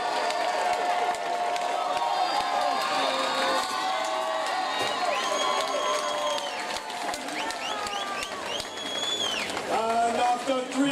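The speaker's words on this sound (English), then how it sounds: "Let's give both of these hands a massive cheer." Crowd cheering, whooping and applauding after the main event of a live MMA show in Bristol, a loud, steady roar that fills the hall for the full length, with shouts and whistles rising above it.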